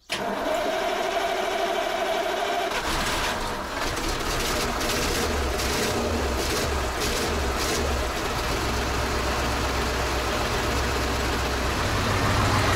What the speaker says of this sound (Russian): сейчас запускаемся и накачиваем воздух